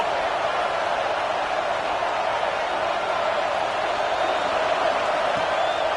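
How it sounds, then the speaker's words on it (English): A football stadium crowd roars steadily behind its defense on a third down, a dense, continuous wash of cheering that holds loud and even throughout without letting up. "decibels rising as the crowd gets behind this defense on third down."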